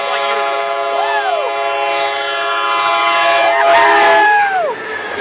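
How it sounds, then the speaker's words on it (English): A Coaster commuter train passes through Del Mar heading north to Oceanside, a loud continuous rail rumble with horn blasts sounding twice, rising near the end, with faint crowd noise behind. "There goes that coaster north to Oceanside."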